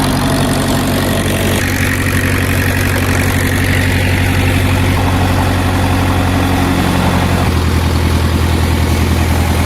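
An irrigation pump engine runs loudly and steadily at a constant idle with heavy low rumble and vibration, with a slight shift in tone near the end.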